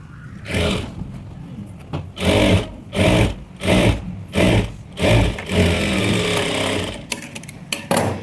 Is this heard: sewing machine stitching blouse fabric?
yes